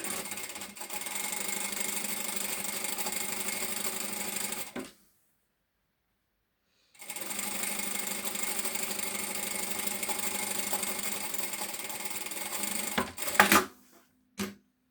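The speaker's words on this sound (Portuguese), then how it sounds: "E vou passar uma costura por cima do risco que eu estive a fazer." Sewing machine stitching a seam through a shoulder bag lining close to the outer fabric, a steady close mechanical whir running for about five seconds, pausing for two, then resuming with a few clicks near the end.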